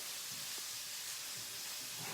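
Stir-fry ingredients sizzle in hot oil in a wok while cooking Chinese takeaway-style sweet chili prawns and beef. The hiss is steady and soft, without talking.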